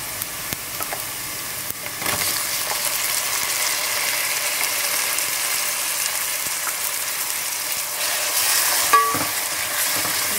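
Tomatoes sauté in a pan for Goan beef curry, a steady moderate sizzle with stirring scrapes and a few clicks, close by and without speech.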